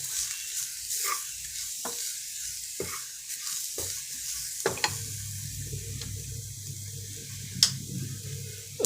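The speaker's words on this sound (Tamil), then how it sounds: "இது கொஞ்சம் எண்ணெயிலே கொஞ்சம் வதங்கிக்கும்" Rasam powder sautéing in hot oil gives a soft sizzle, then frying in a pan with repeated stirring and scraping knocks, louder crackling midway and faint kitchen water sounds.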